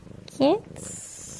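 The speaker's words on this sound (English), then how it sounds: "What is it about a purring cat that instantly makes you want to fall asleep" A contented domestic cat purrs up close in short soft pulses, with a brief louder rise in the middle, and quiet room tone behind it.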